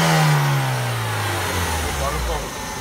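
A Mazda 626 engine with a rough, shaky running fault and a fuel pressure problem, revving with the pitch gliding down and then climbing again, loud and close, with voices talking over it.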